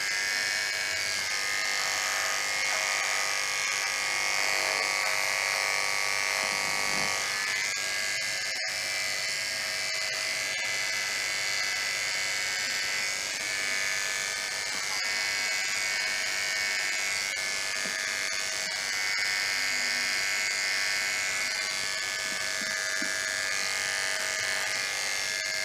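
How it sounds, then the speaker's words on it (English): Electric shaver running continuously while shaving a leg, a steady close buzzing hum with slight changes in tone as it moves over the skin. "first want to shave the area of your leg where your saphenous vein is"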